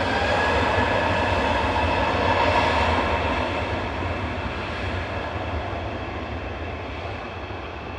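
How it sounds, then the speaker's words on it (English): A steady, loud roar from an EasyJet jet departing Manchester Airport for Naples, broad and sustained for the full stretch and easing slightly toward the end, with no voices. "departing now is EasyJet to Naples with flight"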